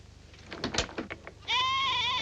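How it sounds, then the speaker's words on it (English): A goat bleats loudly and close by in a long wavering cry, following a stretch of soft shuffling and knocking sounds; the setting is rural wartime Crete. "Oh, it's the goat!"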